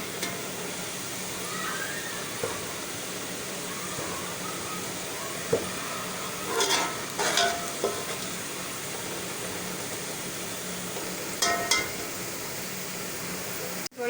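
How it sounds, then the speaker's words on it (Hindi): Onions for a beef nalli biryani fry in hot oil until lightly browned, giving a steady, close sizzle with occasional clinks and stirring scrapes from the pan. "प्याज को हम हल्का सा ब्राउन करेंगे।"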